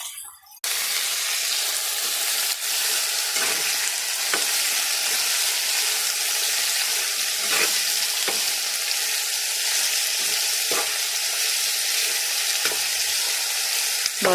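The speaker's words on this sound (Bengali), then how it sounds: "তেল দিয়ে সুন্দর করে নেড়ে আমি পরিমাণ মতো লবণ দিয়ে দিলাম" Oil crackles and hisses steadily while pumpkin greens with shrimp are stir-fried, a loud, continuous sizzle close up with occasional clinks and scrapes of stirring throughout, no voices.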